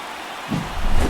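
A home crowd in the baseball video game MLB The Show 24 cheers after a home run, a broad roar that swells from a quiet background halfway through and grows louder toward the end.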